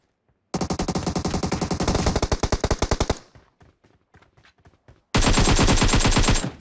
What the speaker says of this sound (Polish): I w niego bot strzela, dawaj.